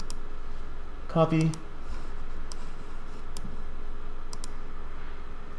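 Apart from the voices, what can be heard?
mouse clicks in ChemSketch software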